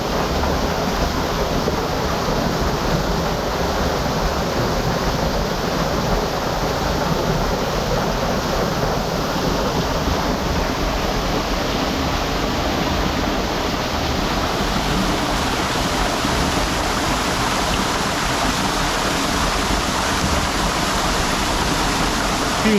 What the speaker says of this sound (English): hot spring water coming from the volcano